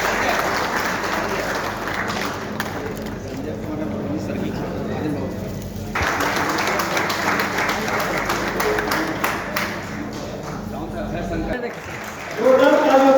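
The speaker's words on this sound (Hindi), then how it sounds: "जोरदार तालियों से स्वागत करते हैं।" Audience applause at a farewell ceremony for a DSP officer in Begusarai, with the district magistrate and superintendent of police present; steady crowd clapping runs throughout under an announcer's voice and swells louder near the end.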